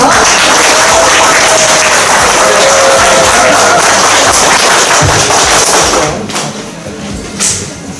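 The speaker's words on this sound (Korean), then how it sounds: "박수로 맞이해주세요." Applause from an audience welcoming two student presenters at an interpreting presentation event, a dense, loud burst of clapping that holds steady for about six seconds before thinning out to a few scattered claps.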